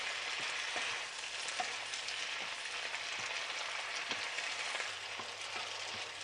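Vegetables and spring onion greens for stir-fried veg noodles sizzle continuously in a pan, with occasional soft taps of a spatula under the steady frying hiss, close and without speech.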